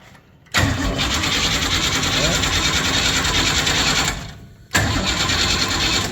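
A Big Block Chevy engine fitted with an HEI distributor cranks over on the starter in a loud, continuous chugging burst, stops briefly, then cranks again, heard up close.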